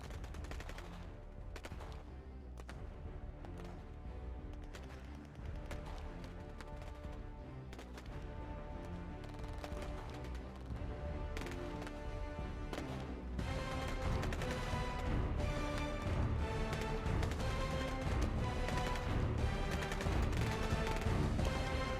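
Gunfire sound effects in a Doctor Who action figure battle, a dense continuous rattle of rapid shots that grows busier and louder, layered over a background score with no talking.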